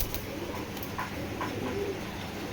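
Giribaz flying pigeons coo softly a few times, brief low calls over a steady background hiss.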